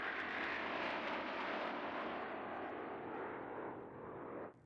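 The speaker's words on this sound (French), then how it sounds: "Avions F-15 de l'armée de l'air israélienne" An Israeli Air Force F-15 jet in news footage roars past as a loud, broad engine rush that holds steady for several seconds, then cuts off abruptly, with no talk over it.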